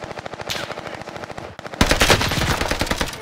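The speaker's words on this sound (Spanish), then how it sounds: "Están ahí disparando." Rapid automatic gunfire from the video game Warzone Pacific, with STG and MP40 weapons in play: a fast stuttering burst, a brief lull, then a louder, denser volley of close shots.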